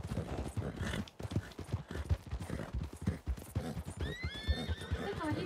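Horses in a rural area clip-clop with a busy, uneven run of hoofbeats, then one gives a shrill, wavering neigh near the end. The sound stays fairly faint.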